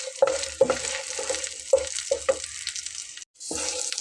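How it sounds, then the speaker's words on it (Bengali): Dried red chillies fry in a pan, giving a steady close sizzle with repeated stirring scrapes that break off briefly near the end before the hiss returns. "নিয়ে এটাকে খুব ভালো করে ভেজে নিতে হবে।"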